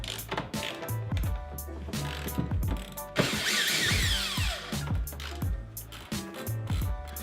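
A hand ratchet works loose the fasteners on the tank shroud of a worn 2-stroke snowmobile. The close, repeated clicking comes in quick bursts, with a short louder clatter partway through.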